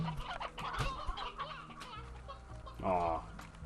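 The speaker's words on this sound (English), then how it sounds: "Adorable old chicken." Chicken clucking in the video game Slime Rancher, a run of short rhythmic clucks over game background sound with a voice murmuring, ending in a louder squawk-like call.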